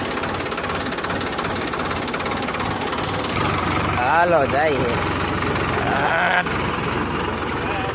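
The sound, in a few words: Tractor engine starting and running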